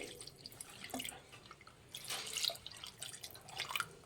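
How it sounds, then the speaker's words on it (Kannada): Water is poured over a quarter kilo of mutton liver in a pan, faint dripping and splashing trickles coming in uneven bursts, swelling briefly midway and again near the end, with no talking. "ಲಿವರ್ ಮುಳುಗೋ ಅಷ್ಟು ನೀರು ಹಾಕ್ಕೊಳ್ಳಿ"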